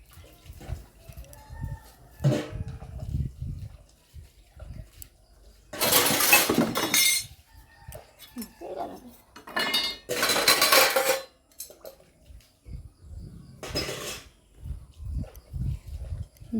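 Scrubbed dishes, pots and cutlery are rinsed and washed at a basin, with repeated clattering clinks of metal and crockery, bursts of splashing water and knocking, close and intermittent throughout.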